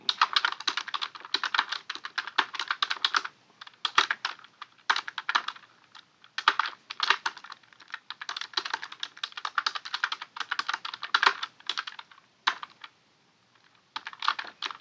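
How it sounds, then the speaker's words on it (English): Rapid typing on a computer keyboard while making a Canva design for party favors, close and crisp clicking in irregular bursts with brief pauses, no talking. "Let me make sure I can type in here"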